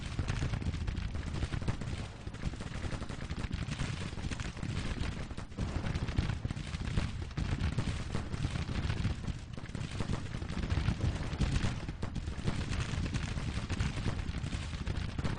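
Continuous distant musket volleys and booming artillery fire from an American Civil War battle in the video game Grand Tactician: The Civil War, a dense rumbling roar of shots without pause and no talking.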